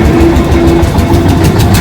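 A new tractor's engine idles close by in a steady low rumble with an even hum, unbroken for the whole stretch and with no voices over it.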